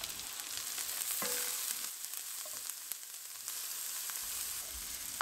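Green and red peppers with pink-skinned Taş Köprü garlic from Kastamonu sauté in oil, giving a steady, fairly quiet sizzle with small pops and an occasional stirring scrape, and no voices.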